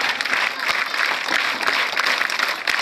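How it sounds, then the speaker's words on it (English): Audience clapping in unison at a school annual day event, a dense, steady wash of applause filling the whole stretch with no break. "Once again, start clapping."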